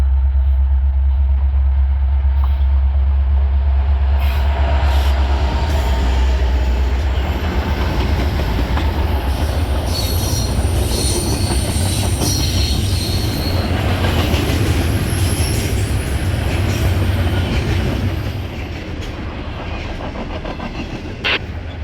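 A heavy freight train carrying trash containers rumbles past up close for a long stretch, wheels clacking and squealing on the rails before the roar begins to fade.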